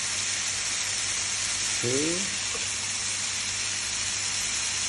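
Bacon sizzles in a hot pan while burgers are being cooked, a loud, steady hiss of frying that runs throughout, with a voice briefly speaking over it.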